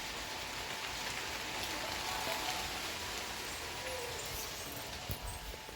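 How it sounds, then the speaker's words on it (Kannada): Heavy rain pours steadily outdoors, a dense, even hiss of drops at a constant loudness that continues without a break. "ತುಂಬಾ ಮಳೆ ಬರ್ತಿದೆ ಹೊರಗಡೆ."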